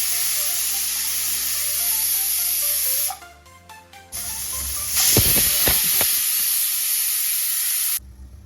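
A pressure cooker holding stacked bowls for drumstick curry lets off a loud, steady hiss of steam nearby, breaking off briefly before surging back and then cutting out.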